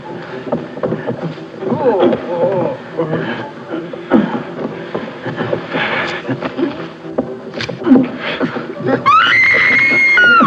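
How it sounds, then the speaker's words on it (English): A woman lets out a high, sustained scream near the end, preceded by a busy, noisy stretch with voices and clatter in the background. "Do I hear a lady screaming?"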